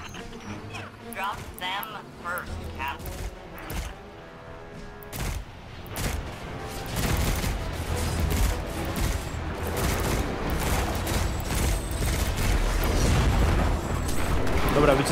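Dense bursts of explosions and rapid gunfire fill a Destiny 2 battle, booming and crackling almost continuously and building louder toward the end, while a player talks over the action.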